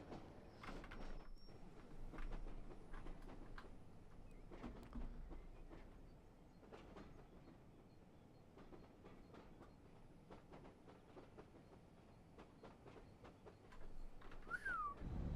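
In Train Sim World, a train rolls downhill on gravity alone with its engine idle: a quiet, continuous rumble with scattered rail clicks and clanks, and a faint squeal near the end.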